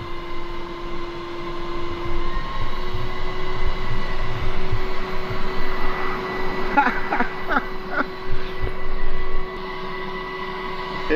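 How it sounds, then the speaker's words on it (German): An ice vending machine's vacuum suction arm starts up with a steady machine hum and broadband whoosh, joined by a few clicking mechanical sounds midway before the level drops slightly near the end. "Jetzt geht der Staubsauger an."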